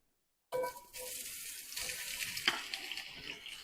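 Potatoes and onions hit hot oil in a cast iron pan, bursting into a sudden loud sizzle after a moment of silence, then a steady crackling hiss with a sharp clatter partway through.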